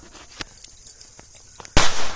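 A firecracker bomb bursts in a village yard during Eid celebrations: a few faint pops, then one loud, close blast with a broad crack that rings out as it fades.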